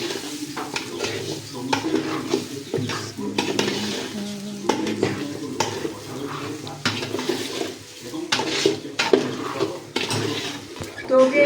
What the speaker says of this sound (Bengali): তো এখন আবার এগুলো একটু লাল লাল করে ভাজা নেব